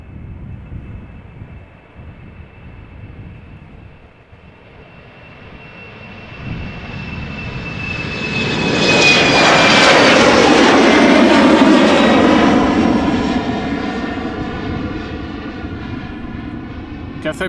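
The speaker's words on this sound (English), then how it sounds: "Cathay Pacific flight 270 going to Hong Kong, A350-1000, 4 years old." A Cathay Pacific Airbus A350-1000 jet, four years old, passing at Amsterdam Schiphol Airport: a thin whine gives way to a swelling, broad jet roar that peaks midway and slowly fades, with no talk.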